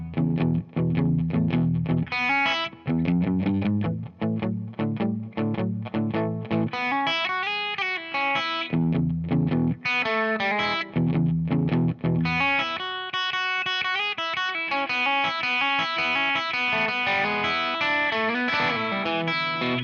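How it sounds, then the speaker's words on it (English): Electric guitar plays a 12-bar blues progression with a slightly overdriven tone. Loud, continuous phrases of bass-string riffs and chords carry on alone throughout. "The 12-bar progression is going to sound like this for this lesson."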